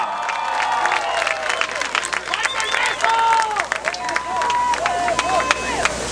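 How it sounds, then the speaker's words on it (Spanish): A stadium crowd applauding and cheering in Guadalajara at the Estadio Jalisco before a boxing match, a dense roar of clapping and voices with short sharp claps throughout, close and loud. "¡Ese aplauso de Guadalajara!"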